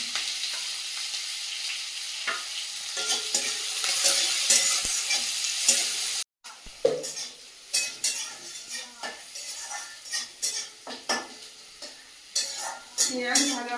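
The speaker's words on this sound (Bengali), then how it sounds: "দিয়ে দেবো কুচিয়ে রাখা পেঁয়াজ" Chopped onions sizzle in hot oil with cinnamon and a small amount of meat, a steady close frying hiss that pauses and returns, followed by repeated metal spatula scrapes and clinks against the pan as it is stirred.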